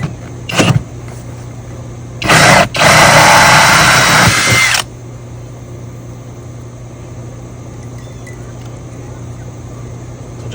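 A drill bores a 2-inch hole through the fender of a 2023 Can-Am Defender Max HD10 XMR, with a short burst followed by a sustained two-second grinding run nearby before cutting off into quiet.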